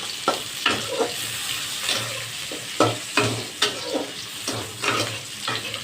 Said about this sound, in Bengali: এটা এবার আমি কড়া করে ভাজবো কিন্তু তেজপাতা আর হচ্ছে শুকনো লঙ্কা ফোড়ন